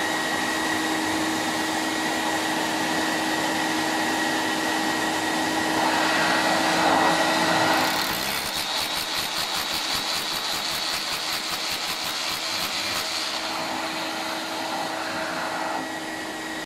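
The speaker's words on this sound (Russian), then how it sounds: "работаете перфоратором. Практически полностью пыль будет собираться пылесосом" A steady mechanical drone of a dust-extracting vacuum runs throughout, joined midway by a rapid, rattling rotary hammer drilling burst that pulses for several seconds before fading.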